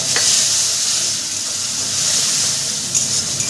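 Spice masala with turmeric, salt and a splash of water sizzling steadily in a pan as it is sautéed for chicken kachori, a continuous bright hiss with faint spoon scrapes, close and fairly loud.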